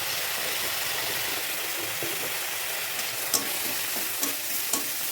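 Spices seasoned with salt and turmeric powder fry in a pan, giving a steady, loud hissing sizzle throughout, with a few sharp spatula clinks toward the end as the mixture is stirred.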